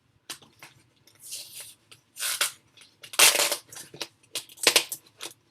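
A taped box that came in the mail is torn open: irregular bursts of ripping tape and crinkling cardboard, close and fairly quiet, with short pauses between pulls and no talk.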